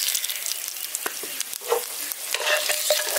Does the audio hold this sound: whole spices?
yes